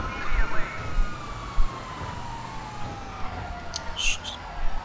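Police car sirens wail in GTA V during a chase, a gliding rising-and-falling tone layered with other emergency sirens, fairly distant under thumping engine and impact noises.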